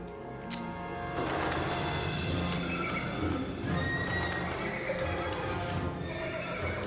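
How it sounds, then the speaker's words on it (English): Horses neigh and whinny loudly, several shrill calls overlapping, with hoof clip-clops and snorting mixed in close by. "Horses go crazy."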